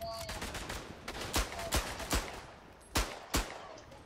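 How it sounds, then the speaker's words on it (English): Gunfire from a World War One video game: a rapid scatter of sharp shots with several louder, closer cracks standing out, sounding like a busy battlefield exchange with no talk. "What are these bullets?"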